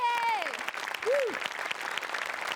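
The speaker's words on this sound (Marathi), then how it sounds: "एकदा जोरात टाळ्या ये" Audience applause on a Marathi comedy stage show, steady clapping running throughout under a brief whooping voice at the start and a short sliding tone near the middle.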